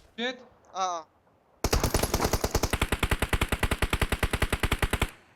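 Rapid automatic gunfire rattles in a loud, sustained burst lasting several seconds during a 2vs2 video game shooter match, preceded by two short spoken calls.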